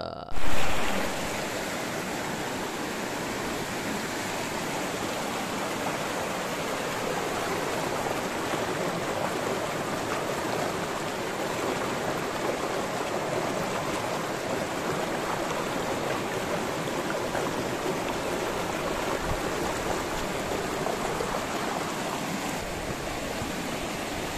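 A clear, cold river stream flows past a campsite at Kampung Beswok, Pos Yum, Sungai Siput, Perak, making a steady, even rush of water that continues unbroken for the whole stretch, with no voices.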